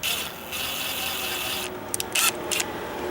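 A metal flagpole bracket is twisted like a drill against a stucco wall, giving a steady scraping, grinding rasp with a few short bursts of louder scratching near the end.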